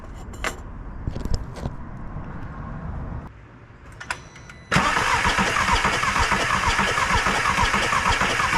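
A 2004 VW Golf with a burnt valve cranks during a compression test, with a few clicks and rattles before the engine noise rises into a steady loud whir that continues to the end.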